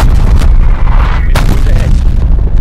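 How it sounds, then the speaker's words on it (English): Heavy artillery strike explosions boom and rumble in Call of Duty: Black Ops Cold War multiplayer, a loud, continuous low roar punctuated by a couple of sharper blasts, with voices faintly present in the mix. "Hostile artillery targeting active."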